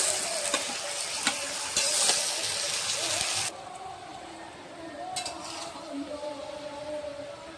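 Spinach and Malabar spinach stirred in a hot pan, a steady close sizzle and fry with scraping stir strokes, louder at first and then settling to a softer hiss.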